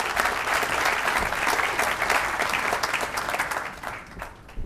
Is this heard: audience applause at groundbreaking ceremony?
yes